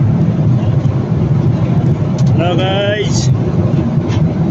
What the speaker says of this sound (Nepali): यस्तो यस्तो हिमालको माथि माथि प्लेन चढ्छ